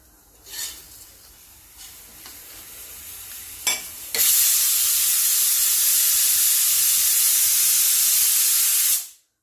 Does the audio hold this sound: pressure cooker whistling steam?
yes